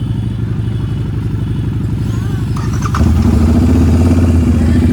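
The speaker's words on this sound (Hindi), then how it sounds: "और ये हार्ले, इसमें लगे हैं स्क्रीमिंग ईगल" A Harley-Davidson Street 750 wearing a Screaming Eagle exhaust idles with a deep, lumpy rumble up close, then grows louder and fuller partway through as the engine is blipped and settles at a higher pitch.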